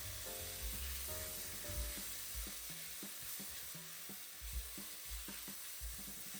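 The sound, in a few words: stirring green chutney with onions in a pan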